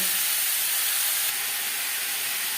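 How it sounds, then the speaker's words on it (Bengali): Potatoes fry lightly in the same kadai used for frying fish heads, making a steady, loud, even hiss throughout with no talking. "আলু হালকা করে ভেজে নেব।"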